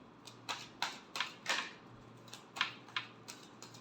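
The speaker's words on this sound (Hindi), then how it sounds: "last shuffle" Tarot cards are shuffled with a string of faint, quick clicks and riffles that come in a loose, uneven rhythm.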